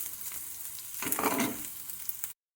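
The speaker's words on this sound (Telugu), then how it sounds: "ఉల్లిపాయలు ఇలా వేగితే చాలు" Chopped onions fry in a covered pan. A soft, even sizzle grows into a louder, brighter hiss for a moment before settling back, then cuts off abruptly.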